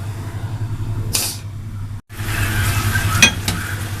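Chickpea masala sizzles over a high flame, a close steady hiss with a low hum beneath, briefly cut off for an instant mid-way and punctuated by a few light clatters.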